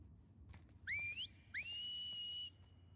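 Two rising whistles from a character in The Last of Us Part II, a short upward call followed by a longer sustained note, clear and fairly close over a quiet ambient background.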